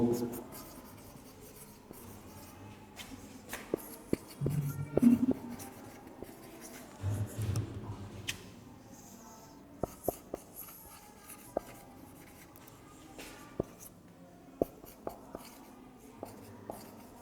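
A pen writes notes on paper during a chemistry lesson, with faint scratching strokes and occasional taps at close range under quiet background noise.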